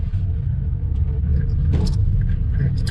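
A car drives past on a neighbourhood street, a steady low rumble that swells and holds loud and close throughout, with faint higher engine whine on top and no talking.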